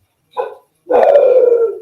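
Dogs barking indoors at a doorbell, two close, loud barks, a short one and then a longer drawn-out bark with no talk over them.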